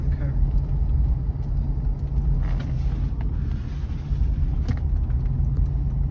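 A 1998 Cadillac Eldorado convertible engine runs steadily while driving, giving a constant low rumble with wind noise over it and some talk on top.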